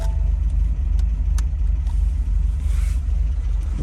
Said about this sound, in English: we're going to turn the car on